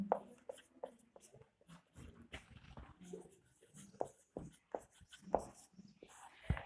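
Pen scratching out a physics definition by hand in a classroom revision lesson, close and quiet, with short irregular strokes and taps in an uneven rhythm.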